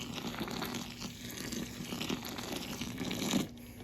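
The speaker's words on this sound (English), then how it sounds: "So all I'm going to do is take a bunch of this water. This is just tap water." Tap water gushes steadily into a pail already holding loam, a continuous close pour with a faint tonal hum underneath and a brief swell near the end.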